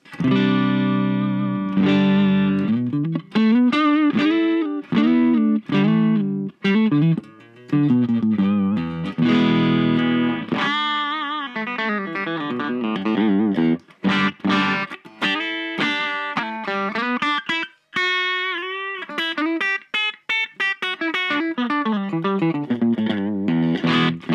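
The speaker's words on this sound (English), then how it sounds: "it's just a small battery-powered amp" Distorted electric guitar riffs and chords through a small battery-powered practice amp, continuous and fairly loud, with a gritty, compressed tone and no voices.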